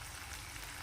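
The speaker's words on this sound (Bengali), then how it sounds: "কথা বলতে বলতে এতে দিয়ে দিচ্ছি 5 ফোড়ন।" Five-spice tempering sizzles in hot oil in a wok, a faint, steady crackling hiss for under a second with no voices.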